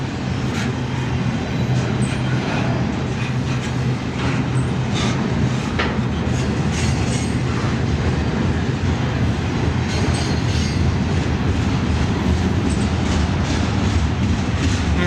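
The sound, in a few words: train passing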